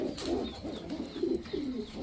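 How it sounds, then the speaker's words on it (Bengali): Low, throaty cooing of a male Pakistani Jaldar pigeon repeated in soft rolling phrases, fairly close, with no talking. "দেখেন এটা হচ্ছে পাকিস্তানি জালদার একটা নর কবুতর"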